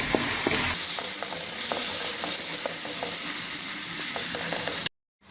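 Bitter gourd peels and chana dal frying in a pan, a constant hissing sizzle broken by repeated light spatula scrapes and taps, stopping abruptly near the end.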